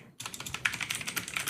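Rapid keystrokes on a computer keyboard clatter in a quick, uneven run after a brief silence, close and fairly clear with no talking.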